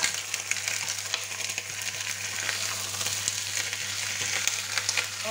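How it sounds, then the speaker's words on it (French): Turkey osso buco sizzles and crackles in a hot pan with a dense, continuous frying hiss and scattered pops throughout, heard close with no voices. "On n'hésite pas de tourner notre viande."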